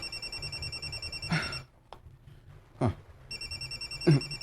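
A telephone rings with an incoming call: a bright electronic trill sounds in two bursts with a gap between them. Low background noise and a few thumps run underneath, and there is no speech.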